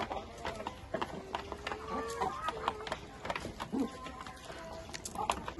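Chickens and native chicks cluck and peep softly in the background as they are let out to feed, scattered short calls over a quiet outdoor ambience.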